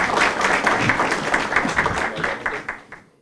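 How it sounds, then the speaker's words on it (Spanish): Audience applause before a debate on the market and the state, a steady wash of many hands clapping that fades out toward the end. "un fuerte aplauso y vamos a empezar con esto"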